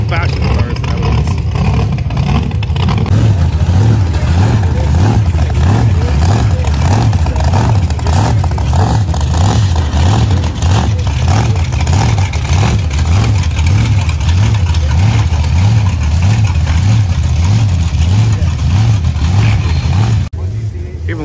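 Old-fashioned cars at a car show at the Alameda County Fairgrounds rumble and rev continuously, a loud throbbing engine drone with a pulsing beat under steady background noise, people talking faintly among it.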